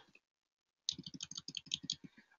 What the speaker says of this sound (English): I'm just hitting that diagonal key on my keyboard